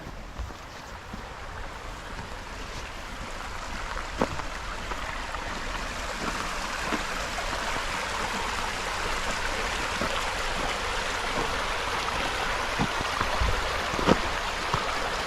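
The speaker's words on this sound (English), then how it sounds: "Here's the stream behind the fossil pit." A shallow stream flows behind a fossil pit in Swatara State Park, a steady, full rushing wash of water that holds constant throughout with occasional faint ticks and no voices.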